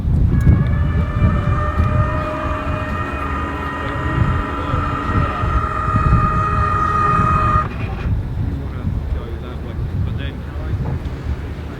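A Lotus Evija's rear wing and DRS flaps rise in track mode with a steady electric whine and layered motor tones lasting several seconds, then stopping abruptly, over a constant low rumble.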